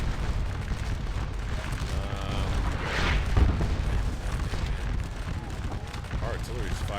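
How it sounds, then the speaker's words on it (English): Booming cannon fire from artillery in the Waterloo battle game Scourge of War, a few heavy reports sounding amid continuous battlefield noise, with someone talking over it throughout. "Our artillery's firing good effect here"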